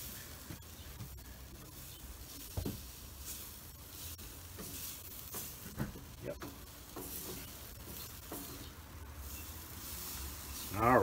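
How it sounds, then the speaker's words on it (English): Food sizzles steadily on an outdoor grill while a shrimp stir fry is cooked, a soft continuous hiss under light scraping and occasional clinks, with a louder clatter at the very end. "You hear that sizzling"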